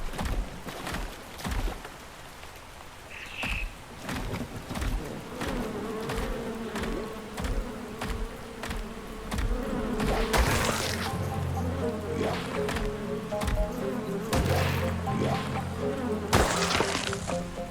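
Insects buzzing in a swamp in the survival game ARK Survival Ascended, a continuous droning hum broken by repeated sharp clicks and thwacks, with louder bursts near the end and no speech.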